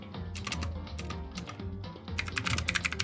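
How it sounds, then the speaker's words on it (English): Rapid, uneven clatter of keys on a computer keyboard, close and steady for about three seconds, with bursts of quicker strokes toward the end and no voices. "Typing it out as I say it."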